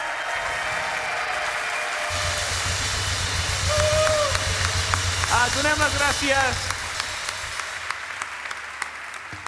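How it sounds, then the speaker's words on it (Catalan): Audience applause at an awards ceremony honoring Àlex Roca for accessibility, a broad wash of clapping that swells mid-way and tapers, with a voice speaking over it and a tonal whistle-like sound partway through. "Un fort aplaudiment."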